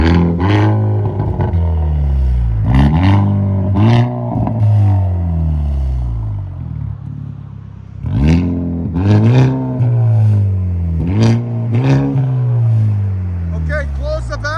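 A 2025 Hyundai Elantra N with its exhaust valves open revs hard several times, each loud rising engine sweep falling back before the next, with a brief lull between bursts.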